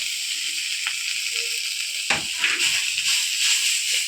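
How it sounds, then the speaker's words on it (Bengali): Garlic paste, ginger paste, dry chilli powder and green chillies frying for duck curry, giving a steady bright hiss and sizzle that turns louder and busier halfway through, with faint stirring beneath. "হালকা হালকা করে ভেজে নিচ্ছে"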